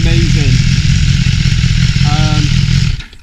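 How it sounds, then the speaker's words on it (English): A BMW S1000XR motorcycle on its standard exhaust runs loud and close, an aggressive steady engine roar with revving that holds for about three seconds, then cuts off abruptly. "Standard exhaust on, it is pretty loud, it's pretty aggressive,"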